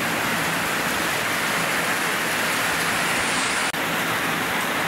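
Loud, continuous downpour of heavy rain hissing on surfaces nearby, with one brief dropout near the end.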